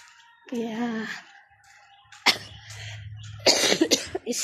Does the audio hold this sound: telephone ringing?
no